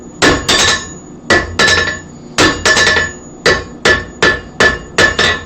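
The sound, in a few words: hammering soft copper to straighten a chisel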